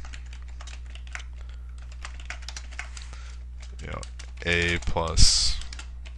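Code being typed on a computer keyboard during a Visual C# programming lesson. Rapid, steady key clicks run under a man's speech and end in a louder burst of keystrokes.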